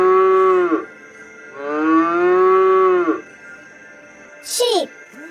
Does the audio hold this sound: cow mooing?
yes